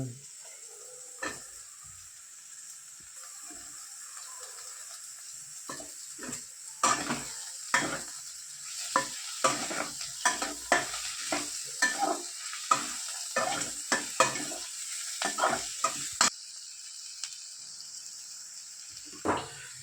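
Green chillies fry in oil with garlic-ginger paste, a steady soft sizzle broken by a run of sharp, regular scraping strokes as a spoon stirs the pan.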